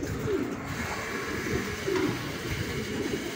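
Racing pigeons coo in soft, low repeated calls at a pigeon race toss in Cabanatuan, over a steady rumbling background, moderately close.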